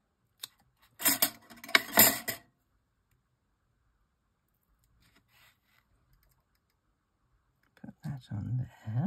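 Scissors snipping tiny bits of paper for crafting, a quick cluster of close crisp cuts early on, then near silence before speech comes in at the end.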